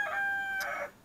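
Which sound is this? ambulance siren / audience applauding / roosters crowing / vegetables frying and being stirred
roosters crowing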